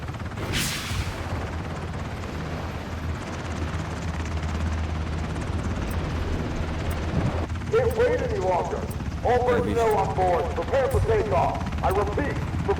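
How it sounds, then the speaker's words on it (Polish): A helicopter in a battle royale video game drones as a steady low rotor rumble, holding throughout while voices talk over the second half. "Widzę helikopter w straży odleciał."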